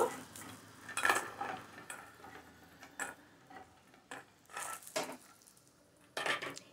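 A metal utensil scrapes and clinks against a pan while lifting fried lentil dumplings out, several short bursts, fairly close, with quiet gaps between them and no voices.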